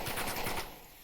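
Rapid automatic gunfire in the VR shooter Onward during an esports match, a dense burst of quick shots that cuts off and leaves a quieter tail.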